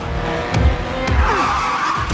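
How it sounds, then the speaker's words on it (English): In a film scene, an armored vehicle rams a car: heavy thuds of impact and a rumbling engine, with tires skidding and squealing across the road, close and loud. "The armored vehicle rams Dom's car."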